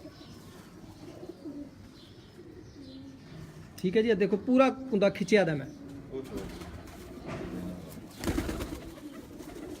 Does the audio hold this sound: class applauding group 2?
no